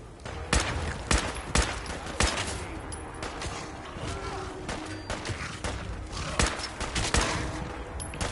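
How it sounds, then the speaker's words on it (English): Rapid bursts of video game gunfire crackle through the whole stretch, with sharp repeated shots and automatic volleys over a busy battle din. "now who's shooting?"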